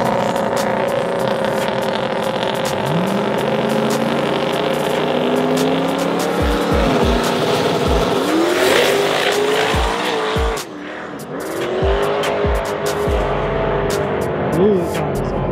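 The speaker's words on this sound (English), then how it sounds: "Blew the tires off and still ran a 9-second pass." A drag race car makes a run with heavy tire spin, screeching and roaring loud, with rising engine notes and several sharp popping breaks as the tires lose grip. Voices talk over parts of it.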